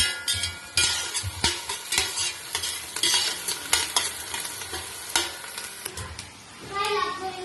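Rice for a green mushroom biryani is roasted and stirred in a hot pan, giving a steady sizzle punctuated by repeated close spatula scrapes and clinks, quieting briefly before a final flurry.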